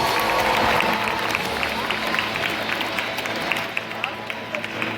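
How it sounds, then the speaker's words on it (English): A crowd at Universal Studios' Fear Factor show claps and cheers in a dense, steady wash of applause that lingers at even volume, with scattered louder claps near the end. "Give them all a round of applause."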